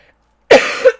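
A single person's cough, close and loud, lasting about half a second with a rough onset and a second push at the end, heard alone after near silence during a gaming session.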